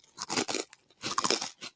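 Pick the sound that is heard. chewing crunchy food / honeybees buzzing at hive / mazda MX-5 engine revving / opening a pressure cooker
chewing crunchy food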